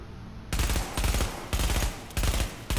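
Gunfire in Tom Clancy's The Division comes in three or four loud, close bursts of rapid automatic shots separated by brief pauses.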